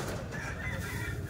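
Chickens cluck and fowl call nearby on a street, soft and steady beneath a low background rumble, with no talk.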